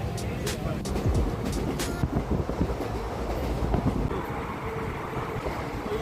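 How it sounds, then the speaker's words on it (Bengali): A train pulls out of Bardhaman Junction with a continuous loud rumble and sharp rail clatter in the first seconds, settling into a steady rolling roar heard from on board. "আমরা এখন বর্ধমান জংশন ছেড়ে বেরিয়ে যাচ্ছি"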